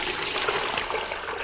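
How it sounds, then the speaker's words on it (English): Water from a well bucket is poured into a second bucket, a steady close-up splashing gush that holds at an even level throughout. "Pulling up some water from the well."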